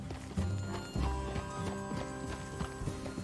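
Horse hooves clip-clopping in Red Dead Redemption 2, a soft, fairly faint patter of steps under a low ambient hum, slowing as the horses come to a stop.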